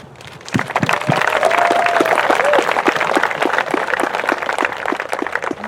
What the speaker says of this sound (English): I just want to give you guys a huge hand of applause